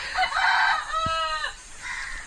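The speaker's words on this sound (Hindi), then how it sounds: "ये मेरा ही मुर्गा है" A free-range rooster on a home property crows once loud and near, a full drawn-out call with clucking noises just before and after and no talk over it.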